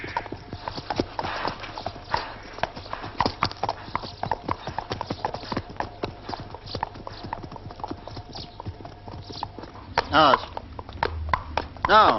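Rapid, steady hoofbeats of a horse clip-clop throughout, close by, with people talking over them and a brief whinny-like squeal near the end.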